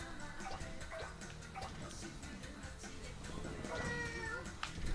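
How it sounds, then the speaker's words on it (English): A pet cat meows repeatedly at close range, several short calls scattered over a few seconds against a busy background of other sounds. "I got a kitty cat."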